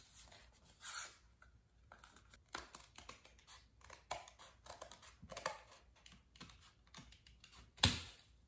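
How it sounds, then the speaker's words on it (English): Cardstock paper being cut at a desk, with a run of soft scraping, snipping strokes that come in an irregular rhythm close to the mic, ending in one sharper loud cut. "first I'm gonna be cutting the cardstock paper"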